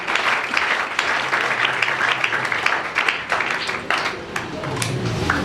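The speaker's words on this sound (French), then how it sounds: "Acclamons très fort pour les saints." A church congregation bursts into sustained, dense applause and clapping, loud and close, with voices and cheers mixed through the steady wash of hands for several seconds.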